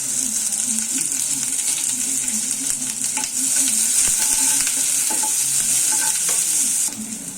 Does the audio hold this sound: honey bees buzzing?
no